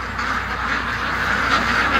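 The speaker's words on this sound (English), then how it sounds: "Oh, man, these ducks." A backyard flock of ducks quacks in a dense, continuous chorus at close range, loud and unbroken over a brief stretch.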